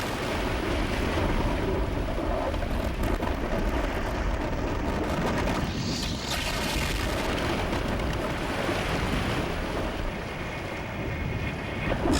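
Ocean waves crash and wash steadily as a broad roar near Mukho port, Korea, with some wind buffeting the microphone throughout and no voices.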